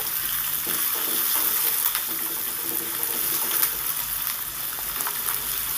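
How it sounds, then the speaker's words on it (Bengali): Onions frying in a pan for a ridge gourd and poppy seed dish, a steady broadband sizzle with scraping stirring strokes throughout, close and fairly loud, no voices. "দেখুন ভালো করে নেড়ে চেড়ে দিচ্ছি পেঁয়াজটাকে আগে একটুখানি ভেজে নেব"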